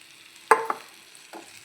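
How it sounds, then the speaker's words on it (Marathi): Semolina stirred and roasted in ghee in a pan, heard as a couple of short, close scraping stirs with a faint sizzle, no voices. "यामध्ये मी रवा ॲड करणार आहे इथे"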